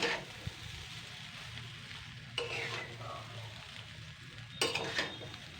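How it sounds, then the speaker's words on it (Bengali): Leftover rice being stirred and tossed in a hot wok with the gas turned off, a steady scraping stir with soft sizzle and a couple of sharper metal clinks of the spatula against the pan. "এবার এই গরম কড়াইতেই আমি ওলট পালট করে নেবো সবগুলো।"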